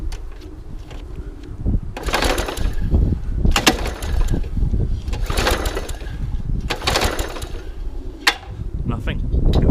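A trash-picked lawn mower's starter cord is pulled repeatedly in sharp rasping bursts at close range, the engine coughing without catching, over a steady background hum.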